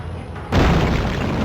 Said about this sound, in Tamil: என்னடா இங்கே வெடிக்குது